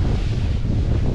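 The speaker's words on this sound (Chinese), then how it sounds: "这个风声好大呀" Strong wind roars steadily into the microphone beneath coastal wind turbines beside a seaside road in southern China, a loud continuous buffeting with no voices.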